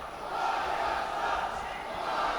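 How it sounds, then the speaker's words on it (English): A big arena crowd roars and cheers steadily at a Greco-Roman wrestling bronze match in the 67 kg class between a Hungarian and an Armenian wrestler, as a sustained wash of voices from the stands with no single speaker. "The crowd cheering for ASLANYAN."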